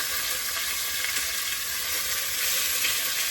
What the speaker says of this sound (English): It will sear your meat instead.